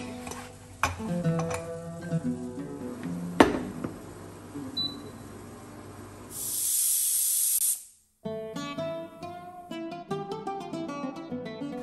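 A pressure cooker cooking mutton lets out a burst of hissing steam, a sharp, breathy rush lasting about a second and a half between stretches of background music.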